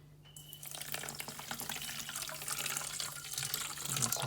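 Tap water runs steadily into a container while mixing a roughly 1:1 sugar syrup for feeding bees, a continuous close splashing stream that starts abruptly and builds slightly in loudness, with no talking.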